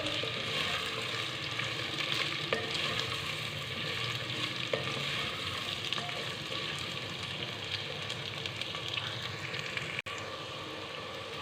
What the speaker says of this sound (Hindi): 4 से 5 मिनट के लिए हम कद्दू को जो है ऑयल में फ्राई करेंगे।